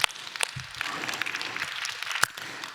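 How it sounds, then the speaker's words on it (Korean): A church congregation claps in a brief scattered round of applause, fairly faint and uneven, with a few sharper individual claps standing out. "박수해야죠."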